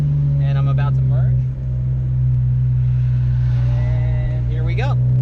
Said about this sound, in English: I want you guys to hear how obnoxious this exhaust is